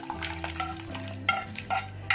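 Spices crackling as they are tempered in hot oil for a village-style drumstick sambar with onions, tomatoes and coriander, with stirring and utensil clinks over a steady sizzle.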